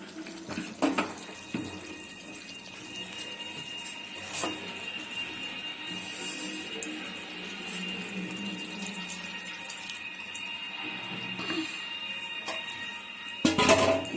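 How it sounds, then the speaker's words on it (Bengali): Hot water poured steadily into a pot of chicken curry and rice, a soft continuous splashing stream running for over ten seconds, fairly quiet and close, with a few clinks at the start and end. "জলটা দিয়ে দিই, গরম জলটা।"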